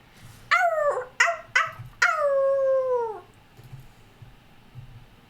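A dog howls in the card game MTG Arena, three short rising yelps and then one long, loud, falling howl, close and clear over a faint low background.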